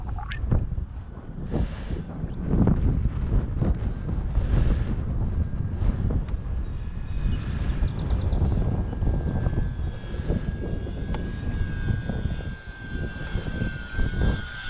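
V-22 Osprey tiltrotor aircraft on its first flight in strong wind, a continuous droning engine and rotor roar with heavy wind buffeting, steady and close for the whole stretch.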